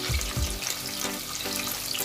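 Chopped onions drop into hot oil already holding green chillies, giving a steady broadband sizzle with a couple of low thuds at the start, close and moderately loud with no talking.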